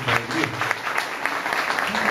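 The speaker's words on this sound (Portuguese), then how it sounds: "vamos dar uma salva de palmas" A church audience applauds a pastor with steady, moderately loud clapping that lasts a couple of seconds, and faint voices are audible beneath it.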